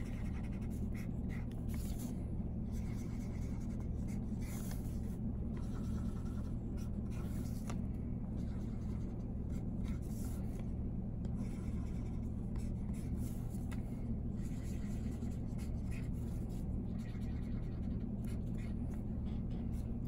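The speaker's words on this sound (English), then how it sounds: "You're gonna draw an eighth note in each of those quadrants." Pencil scratching out eighth notes on paper, steady close strokes over a constant low hum and rumble throughout.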